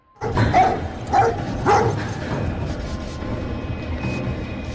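A dog barks three times in quick succession, loud and close, with a muffled rumble of background noise continuing afterward.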